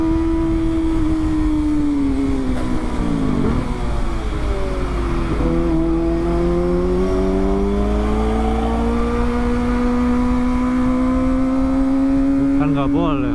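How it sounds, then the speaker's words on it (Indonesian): A big car passes at night on a city street during a ride on a Kawasaki ZX25RR motorcycle. A continuous engine drone shifts in pitch as the vehicles move past each other, and the sound stays loud throughout. "Ada mobil gede lewat sini nih."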